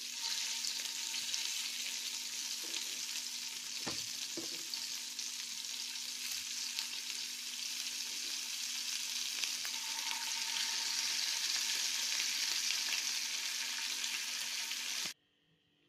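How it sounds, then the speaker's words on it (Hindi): Chicken pieces shallow frying in a little oil in a pan, a steady, dense sizzle that holds evenly for about fifteen seconds with a faint clink or two, then cuts off abruptly near the end. "इन चिकन के पीसेस को सैलो फ्राई कर दूँगी दोनों तरफ से अच्छे से सेक लें"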